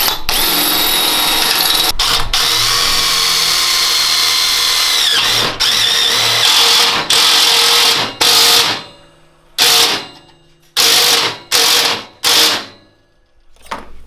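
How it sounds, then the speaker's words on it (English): A power drill drives self-tapping screws into the floor panel of a twin 18hp engine buggy, running in long loud whirring bursts, then a series of short separate bursts with quiet gaps between them toward the end. "we're using self-tapping screws or bolts to put this up"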